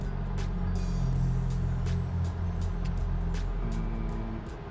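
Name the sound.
turbo E85 engine revving near the rev limiter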